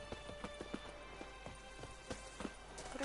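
Horse hooves clip-clop over stony ground in The Witcher 3, a quick uneven trot of sharp close hoofbeats sounding alone for a few seconds.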